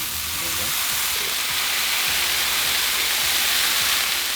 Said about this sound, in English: get some oil in the griddle and get our meats down